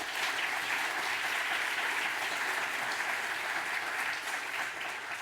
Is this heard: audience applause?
yes